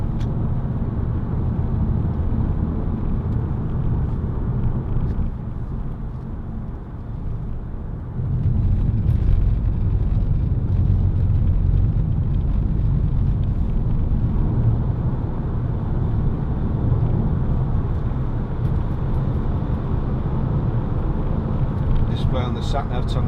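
A Peugeot 3008 1.6 HDi SUV diesel hums as a steady low drone with road and wind noise from inside the cabin as it cruises, swelling slightly midway, while someone talks throughout.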